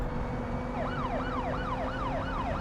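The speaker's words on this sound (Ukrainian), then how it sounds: "Вмикай сирени" A police siren wails, sweeping up and down repeatedly over a steady rumble of traffic, loud and fairly close.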